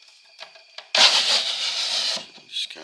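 A slide-out kitchen drawer built into a van is handled nearby, with a couple of light knocks and then a second-long rushing scrape as it slides along its runners, followed by softer clunks.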